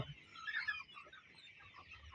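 Hens kept through the rainy season cluck faintly, in a few soft, scattered calls with a louder burst near the start, against a quiet background.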